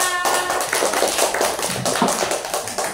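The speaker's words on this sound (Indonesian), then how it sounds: "Tepuk tangan untuk kelompok 3." A class of second-grade pupils claps hands together for a group of classmates, a dense burst of close, bright clapping that begins sharply and fills the whole short stretch with no talk.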